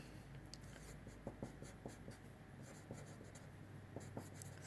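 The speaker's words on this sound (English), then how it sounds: "we're going to take our pen or pencil and we're going to draw another beam like that" A pen or pencil scratching on paper while drawing a beam joining music notes, heard as faint, soft, close strokes in short bursts over a quiet background hiss.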